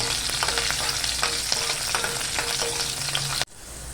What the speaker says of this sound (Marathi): आता आपलं तेल छान गरम झालेलं आहे आता आपण त्यात जिरं टाकून घेऊया कढीपत्ता टाकूया ओली मिरची हे एक मिनटं ना आपण असं परतून घेऊया